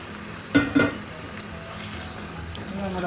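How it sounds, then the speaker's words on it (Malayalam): Chicken and yogurt stirred into sizzling frying onions for chicken biryani, a steady frying hiss with a couple of sharp clanks of the spoon against the pan early on. "ചിക്കനും തൈരും കൂടെ മിക്സ് ചെയ്ത്"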